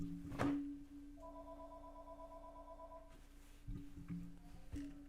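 A telephone rings with a steady electronic trill for about two seconds, fairly quiet against a low constant hum, followed by a few faint knocks and handling noises.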